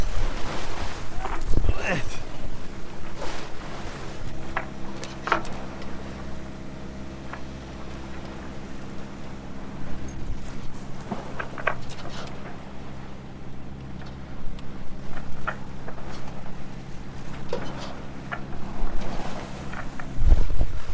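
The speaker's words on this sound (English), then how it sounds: "the 2 metre swell, which has kept us company the whole way, is now ricocheting off the cliff entrance" A sailboat pitches through a two-metre swell near the cliff entrance to Aviles, with steady wind roar and rushing water filling the whole stretch, plus occasional creaks and knocks from the boat.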